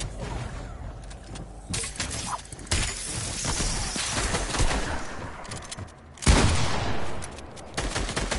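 Video game gunfire arrives in bursts of rapid shots mixed with shattering glass and impact noises, moderately loud, building in the middle and spiking with a sharp crash near the end.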